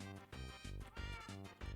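A cat in the Minecraft video game gives a quick run of close, clear meows, repeated several times in under two seconds, with no talking.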